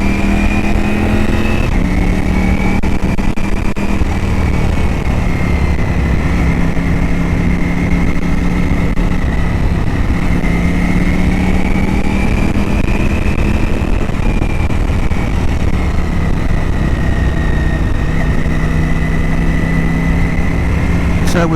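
A Ducati motorcycle being run in, ridden at low revs along roads near Akuna Bay and West Head in Sydney; a loud, close steady engine drone with gently rising and falling pitch under heavy wind noise.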